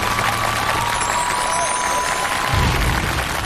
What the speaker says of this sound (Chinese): 掌声有请他们